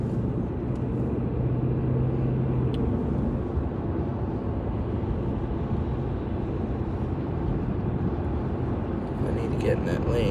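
Road traffic and a truck heard from inside a moving vehicle, a steady broadband engine and tyre rumble throughout with the driver talking over it.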